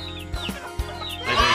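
Chickens cluck inside a coop: several close, chattering calls with rising and falling squawks, loud and overlapping, with one burst of louder, noisier clucking near the end.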